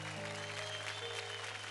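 A studio audience at a children's dance competition show claps in a dense, steady burst of applause, with music humming faintly underneath throughout the short stretch.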